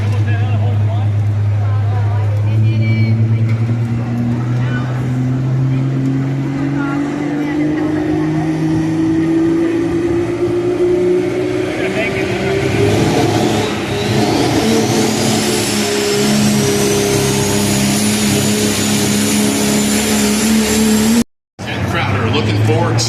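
A Dodge diesel 4x4 pro stock truck pulls at a county 4-H fair tractor pull, its loud engine droning and climbing steadily in pitch with a rising turbo whine, close and continuous. Voices sound faintly in the background, and the sound cuts out briefly near the end.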